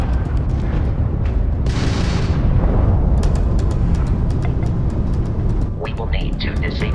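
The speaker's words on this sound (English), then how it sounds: "that's a Crimson Fleet ship bringing its weapons to bear" Crimson Fleet spaceship weapons open fire during ship combat in the Starfield video game, with a loud roaring blast, rumbling booms and a run of sharp rapid shots, all dense and continuous, while a voice talks.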